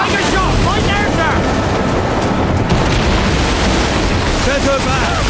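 Ship cannons fire in Assassin's Creed Black Flag, heavy booms rolling over a constant loud roar of battle at sea, with a voice shouting through the din.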